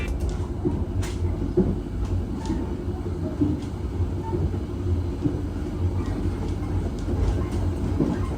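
The KA Joglosemarkerto passenger train leaves Kutoarjo station and runs on the rails with a steady rumble heard from inside, broken by faint rhythmic wheel clicks and knocks.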